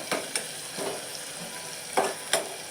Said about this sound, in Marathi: अजून थोडंसं आपण भाजून घेऊया.